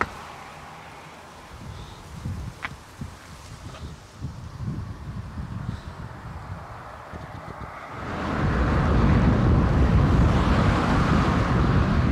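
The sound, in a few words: warm wind blowing from the south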